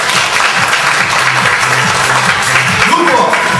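Warm applause from an audience at a seminar, loud, even clapping from a large crowd that holds steady through the whole stretch, with a faint voice audible beneath it.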